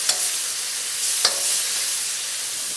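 A spoon stirs beef lo mein in chili crisp sauce in a hot, sizzling pan. Two sharp scraping strokes sound over constant close frying hiss.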